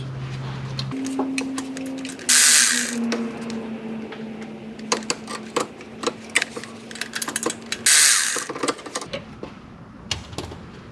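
A ratchet works two 8mm bolts loose from a flashing bracket near the turbo sensor on a 2021 Ram 2500 Cummins, giving close, dense bursts of rapid clicking broken by brief pauses, with a steady hum underneath.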